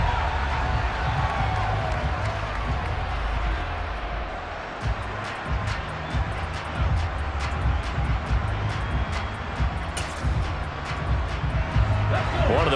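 A stadium crowd roaring and cheering in the football game Madden NFL 23, a steady broad wash of noise that swells slightly, with commentators talking over it.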